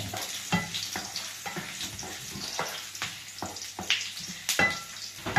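Ginger slices sizzling in a hot pan for chicken liver adobo, a steady crackling fry broken by sharp clatters of stirring and scraping at irregular intervals, close up.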